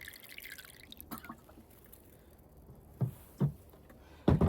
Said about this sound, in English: I'm going to put some water in a bowl